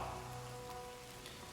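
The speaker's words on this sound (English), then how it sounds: "Of course, it's raining." Rain falls in the Total War: Pharaoh video game, a brief, soft, steady hiss of drops on surfaces without talk.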